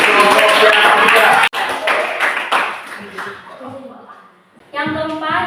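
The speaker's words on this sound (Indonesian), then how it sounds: "tepuk tangan untuk kelompok yang ketiga" A class claps for a student group in a Catholic religious education lesson. A brief burst of scattered clapping is followed by voices talking and a few light taps.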